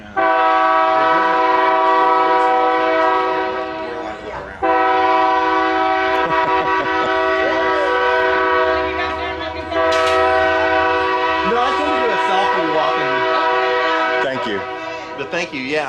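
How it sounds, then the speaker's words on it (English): A loud train horn blares in long sustained blasts, breaking off briefly and resuming, over the rumble of a passing train. "And there's the train."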